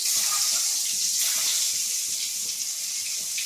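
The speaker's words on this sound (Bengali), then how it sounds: "আমার তেল গরম হয়ে এসেছে, এবার কি করব, আমি ডিমগুলো একটা একটা করে দিয়ে দেবো।" Duck eggs dropped into hot cooking oil for a potato and egg curry, giving a loud, steady, hissing sizzle that runs unbroken from start to end.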